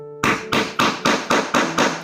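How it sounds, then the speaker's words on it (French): Seven hard hammer blows fall in an even, steady rhythm while setting a Mondial Tissus metal eyelet into fabric. Each strike lands close and loud with a sharp attack and a short ring. "on va donner, mais alors des coups de marteau un peu forts"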